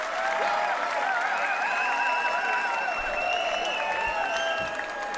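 A concert audience at a show claps continuously, with whistles and cheers rising through the dense, sustained applause.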